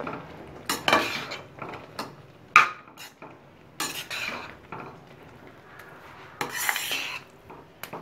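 Red food colouring being stirred into kesari in a pan, with intermittent metallic spoon scrapes and clanks against the pan in uneven bursts separated by quiet gaps, close and moderately loud.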